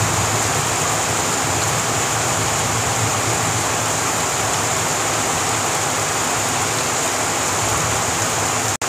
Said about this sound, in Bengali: বৃষ্টি এখন ভালোই হচ্ছে এই মুহূর্তে